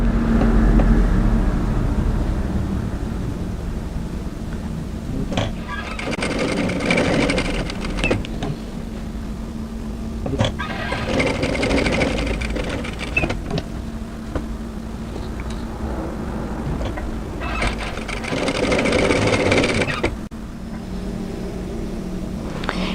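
A sewing machine stitches a seam on a tee dress, whirring in three or four bursts of several seconds each with brief pauses between them, close and steady.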